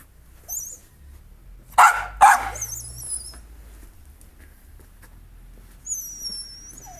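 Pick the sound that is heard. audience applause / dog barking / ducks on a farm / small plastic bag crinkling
dog barking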